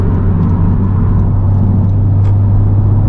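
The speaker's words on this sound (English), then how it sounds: "couple pounds of boost, you can really hear it" Steady interior drone of a 2021 Honda Civic Type R turbo engine running under light boost, a loud constant low hum with faint whirring on top and no speech.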